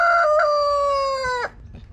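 A kanoypi rooster about six months old crows once up close, a loud, clear, drawn-out call lasting over a second, followed by a few faint clucks.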